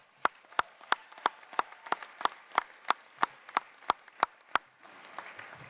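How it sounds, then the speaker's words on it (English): A small graduation audience at a winter commencement ceremony claps in a slow, steady rhythm of about fourteen distinct sharp claps, fairly close and moderately loud, then fades into a soft murmur of crowd noise. "give your moms and dads and all your family members a round of applause as well"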